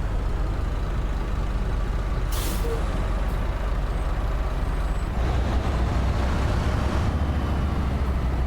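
Trucks idle with a low, steady rumble, a sharp hiss of air brakes bursting out briefly partway through, moderately loud and without speech.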